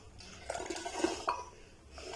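Warm milk is whisked in a metal pot, faint clinking and swishing scrapes of the whisk against the pot for a couple of seconds.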